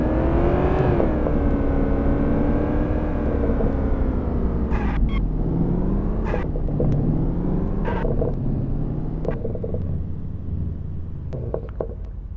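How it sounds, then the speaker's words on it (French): A car's exhaust and engine drone steadily as it drives in the PS5 game City Driver. The engine is loud and continuous, with the pitch rising and falling as it revs and shifts, and there are occasional brief clicks. "c'est le bruit d'échappement qu'on entend"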